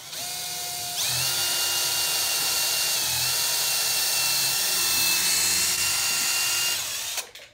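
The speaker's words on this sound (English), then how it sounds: "We're going to go ahead and drill a hole through that pretty much in the center." A power drill whines steadily while boring a hole through a foam core wing, loud and close, its high pitch holding for several seconds before stopping abruptly.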